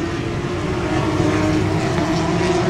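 Race cars run around a track, a continuous loud engine drone that stays steady and fairly near throughout, with no talk.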